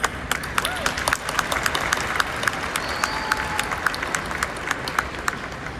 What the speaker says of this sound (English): give them a round of applause